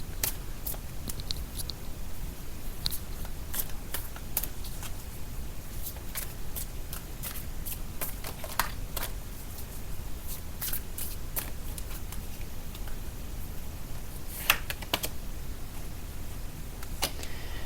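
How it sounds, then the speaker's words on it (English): Tarot cards being shuffled and drawn during a love reading, a steady papery rustle with scattered sharp flicks and snaps of cards throughout, close and fairly quiet, with no talking. "I'm going to pull another card."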